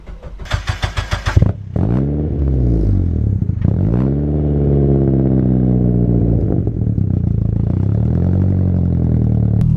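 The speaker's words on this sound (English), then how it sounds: "that is how loud this car is" A turbocharged Mazda MX-5 cranks and fires up, then roars loudly with sharp revving bursts and a raw, unmuffled straight-through exhaust rumble with no silencers, very close and dominant.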